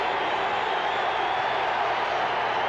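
Large football stadium crowd at a 1978 Raiders–Seahawks NFL game, a steady broad roar of many voices that holds loud and constant throughout without distinct cheers or claps.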